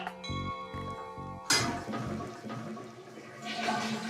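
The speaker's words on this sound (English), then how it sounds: "I grant you the honor to flush away." A household toilet with a pot lid set over the bowl starts with a metallic ringing clink and rhythmic rattling, then a rushing flush of water surges in and gurgles on steadily.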